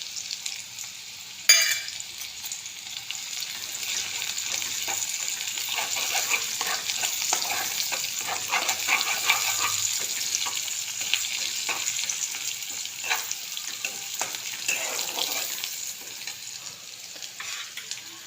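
Ginger-garlic paste and curry leaves sizzle in hot oil in a pan while cooking suran, a steady crackling hiss with occasional spatters and stirring scrapes, continuing evenly and moderately loud with no voices.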